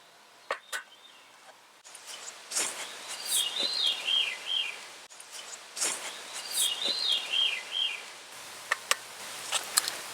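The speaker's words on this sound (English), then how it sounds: "Can you hear that bird?" A bird sings at 6 in the morning at a bear-country campsite on Canada Day, with two long warbling phrases of rising and falling notes and a few sharp clicks nearby.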